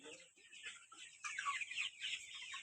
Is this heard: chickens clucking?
yes